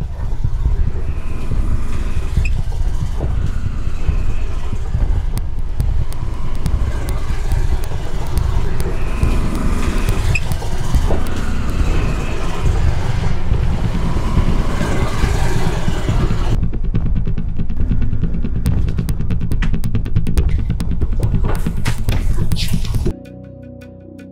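An auto-rickshaw engine drones steadily while the vehicle rattles and jolts over a rough, broken road. Voices talk over the noise before it cuts to quiet near the end.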